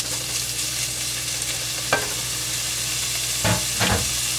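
Salt pork sizzling and rendering its fat in a pan, a steady close frying hiss with a few louder stirring scrapes near the end, no talk.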